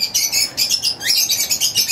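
Rapid, bright chirping from several small birds close by, in quick repeated bursts.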